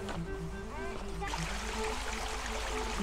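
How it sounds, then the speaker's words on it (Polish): River water flows steadily with a broad, constant rush close by, while children and adults talk over it at a riverbank during an outdoor boat-launching game. "Jesteśmy już nad rzeką i zaraz będziemy puszczać statki."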